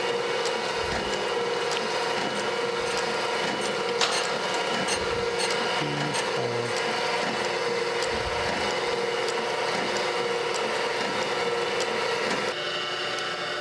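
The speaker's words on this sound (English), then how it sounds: "Let's start grinding." A surface grinder grinding metal surfaces square gives a steady, loud abrasive hiss and whine with a continuous motor hum and faint intermittent scraping.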